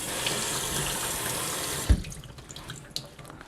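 Cold water runs steadily from a tap onto a paint strainer for a couple of seconds, a close, full hiss that cuts off abruptly with a knock, leaving only small drips and faint handling sounds.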